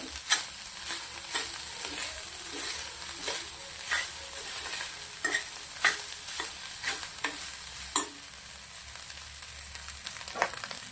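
Cooked rice, about one bowlful, is stirred and fried in ghee in a pan, a soft continuous sizzle broken by repeated sharp scrapes and taps of the spoon, with no voices.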